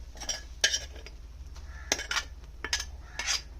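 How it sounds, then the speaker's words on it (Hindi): A spoon stirring grated bottle gourd into thickened milk in a pan, with several short scraping clinks against the metal spaced irregularly over a low hum, close and fairly quiet. "जो मैंने ग्रेटेड लौकी बनाए रखी थी वो इसमें मैं मिक्स करूंगी"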